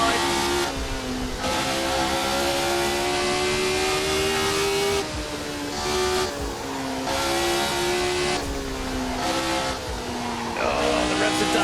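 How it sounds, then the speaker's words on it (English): Formula car racing through the Porsche curves at Le Mans in Assetto Corsa, its engine screaming loudly and shifting pitch as revs rise and fall, with brief tire squeal and talk over it. "Oh, the revs are dying off, but I don't really want to put it down to second."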